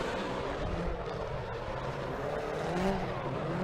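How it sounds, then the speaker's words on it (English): A Subaru BRZ drift car slides through a Formula Drift battle in Seattle in 2015, giving a sustained, loud roar of engine and tire noise that stays steady and dense across the whole moment. "Yoshioka throwing it on here in the BRZ."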